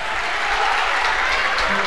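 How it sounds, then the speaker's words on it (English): A college basketball crowd at an NCAA tournament game in a gym roars and applauds, loud and sustained from start to finish. "And this crowd is going crazy"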